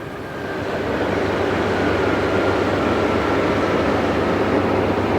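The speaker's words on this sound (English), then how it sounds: "service from Newcastle disgorges its passengers at the end of the line" An intercity train from Newcastle rumbles steadily into a terminus station, a loud continuous roar of wheels and engine with a faint high whine running through it.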